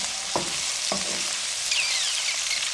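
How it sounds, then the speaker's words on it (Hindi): Okra (lady finger) pieces fry in a pan, giving a continuous close sizzle with two short scraping stirs early on and a faint whistle-like hiss later, no voices. "अब कितनी अच्छी खुशबू आ रही है भिंडी को फ्राई करते हुए"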